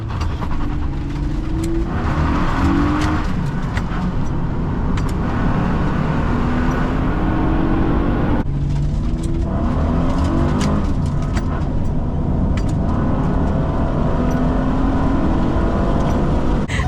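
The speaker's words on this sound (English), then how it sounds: "I'm gonna try to manually shift while we're hitting the nitrous" A Honda Odyssey minivan engine on nitrous revs hard and loud, pitch climbing through manually shifted gears with a brief drop mid-way, continuous roaring acceleration throughout.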